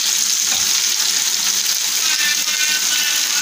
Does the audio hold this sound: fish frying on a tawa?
yes